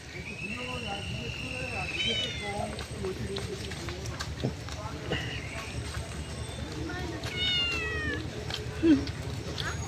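A cat meows repeatedly at a busy traditional village market in the Sundarbans, short cries heard under constant chatter and crowd noise, with people talking nearby.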